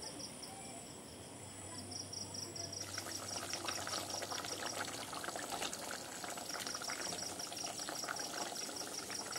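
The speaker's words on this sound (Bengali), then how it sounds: "ঝোল ভালোভাবে ফুটে উঠলে এর মধ্যে আমি মাছের টুকরোগুলো দিয়ে দেব।" Katla fish broth for a Bengali-style curry comes to the boil as fish pieces go in, a soft bubbling hiss that swells partway through, quiet and steady over constant cricket chirping.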